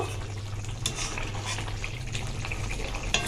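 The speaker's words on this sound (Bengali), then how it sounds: "নেড়ে দেব" Bhola fish kalia with ghee being stirred in a pan, a low simmering bubble under a few soft spoon scrapes and knocks against the pan.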